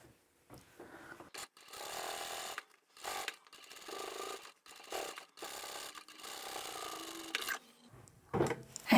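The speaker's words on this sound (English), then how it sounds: "I'm only actually going to be sewing the lining and the seam together." A sewing machine stitches the lining and seam of a handbag made from fabric and vinyl, running in several short bursts with brief pauses between them, fairly quiet and close, with no talking.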